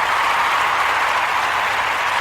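An audience at a church applauds, a steady wash of clapping with no breaks, moderately loud and unaccompanied.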